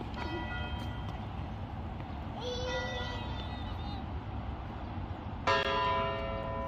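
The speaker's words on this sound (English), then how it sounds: "The bell rang." A church bell rings out in a few separate, resonant strikes over low background hum, the last one louder and ringing on as it decays.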